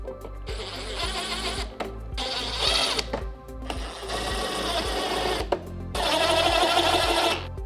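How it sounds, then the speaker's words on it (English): A power driver tightens T25 screws on a 2024-2026 Harley-Davidson Street Glide Ultra, whirring in four separate bursts with clicking ratchet-like texture between pauses, close and loud. "we have 1 screw that we're going to tighten, T25"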